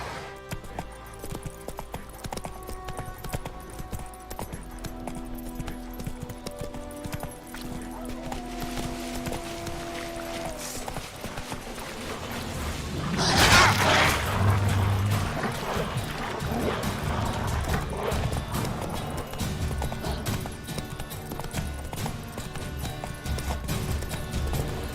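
Horse hooves clip-clopping at a run in The Witcher 3: Wild Hunt, a steady rhythmic beat under game music and ambience, swelling briefly louder around the middle.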